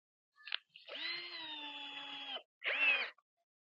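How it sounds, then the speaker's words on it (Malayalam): A power drill drives a screw into a PVC pipe cap in short bursts: a brief blip, then a sustained whining spin of about a second and a half, and one more short burst. "ഇവിടെ ഒരു സ്ക്രൂ ചെയ്യുന്നുണ്ട്."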